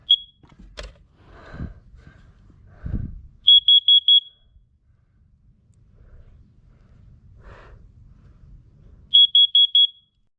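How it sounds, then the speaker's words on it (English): A carbon monoxide alarm under test sounds two bursts of four sharp, shrill beeps, separated by quiet stretches with faint handling noise and soft breaths in a home. "we may as well do the carbon monoxide alarms"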